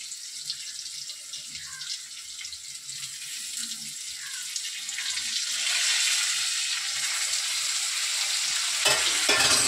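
Ginger-chili paste sizzles and is stirred in a pan of thin fish curry, a steady bright frying hiss with soft scraping that swells slightly midway and runs alone without talk.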